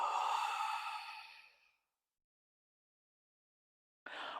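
A single long, deep exhale during a yoga flow, a breathy sigh close to the microphone that fades out, followed by silence and the start of another breath.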